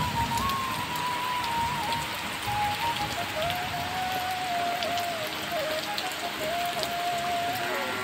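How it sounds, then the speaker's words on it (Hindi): Heavy rain pours steadily across a surface outdoors, a dense continuous hiss with no breaks, while a faint whining tone drifts along underneath. "केते जोरे वर्षाटा हो गला"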